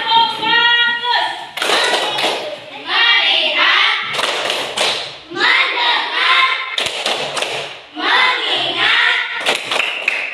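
A school class claps together in a rhythmic group routine, loud bursts of patterned claps alternating with children and a teacher chanting in unison.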